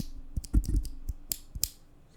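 Typing on a keyboard fitted with Gateron Yellow linear mechanical switches in Cherry MX style black housings, with about eight sharp keystroke clacks at an uneven pace, close and clear with no voices.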